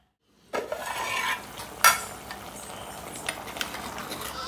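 Chicken for pudina chicken cooks in a pan with a soft sizzle, while a spoon stirs and scrapes, including one sharp clink. No one speaks.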